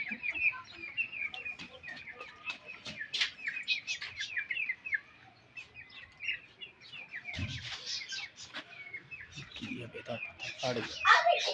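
Colourful chicks chirp constantly in a high, busy chorus of peeps and tweets, with occasional clucks from nearby hens and people talking in the background.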